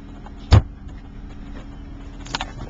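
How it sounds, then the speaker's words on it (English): Trunk of a 2007 Toyota Prius opening: a sharp latch clunk, then soft mechanical rustle and a faint rattle as the lid rises, close by with no voices. "Trunk opens up nicely."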